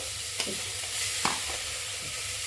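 Tomato fries with cowpeas in a pan: a soft, continuous sizzle, with a few light stirring scrapes and taps, close and fairly quiet.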